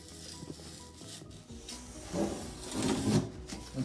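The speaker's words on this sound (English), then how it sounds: "Go around the perimeter with your razor blade and simply just cut the foam." A razor knife slicing a channel around the perimeter of a foam shower pan during a square drain installation, soft close rubbing and scraping strokes that grow louder and more textured toward the end.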